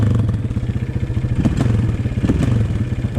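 A Honda CRF230 dirt bike engine idles after a hot restart, a close, loud, steady rapid thumping putter with slight uneven pulses.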